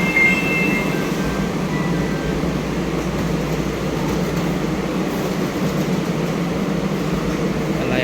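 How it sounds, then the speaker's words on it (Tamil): Small train in Japan, a steady rumbling, rattling ride noise filling the whole stretch at constant loudness, with no clear voices. "ரொம்ப குட்டி ட்ரெயின் தான்."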